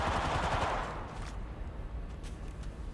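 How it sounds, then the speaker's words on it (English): Rapid automatic gunfire from enemies in the mobile game Apex Legends, with a dense burst of shots up front that thins into scattered, fainter cracks. "The enemies are shooting at me."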